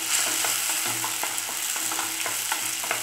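Mint leaves frying in oil in a pan for mint rice, a loud continuous sizzle with regular scraping stirs throughout.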